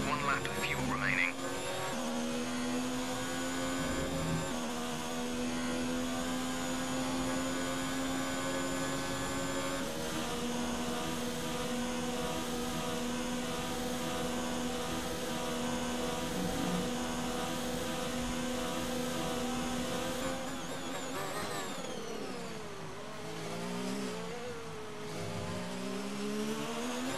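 Formula 1 race car engine in F1 2019 on the final lap of the Belgian Grand Prix, a high continuous whine climbing and dropping through gear changes, with a long sustained pitch sweep and a deeper lift near the end.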